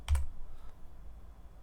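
Quick keystrokes on a computer keyboard typing a short terminal command, a few close, crisp clicks at the start then near silence, no talk.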